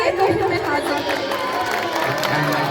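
A poetry recital audience claps and cheers in a hall, a steady wash of applause mixed with crowd chatter and shouts throughout.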